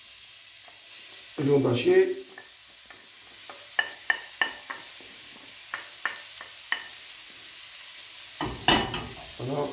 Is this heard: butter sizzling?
yes